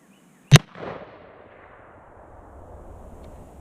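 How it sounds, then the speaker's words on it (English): A single sharp crack from a Remington Model 788 rifle chambered in 6mm, fired outdoors, followed by a rolling echo that slowly fades into quiet background ambience. "That was a better executed shot."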